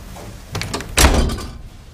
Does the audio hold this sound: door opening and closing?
yes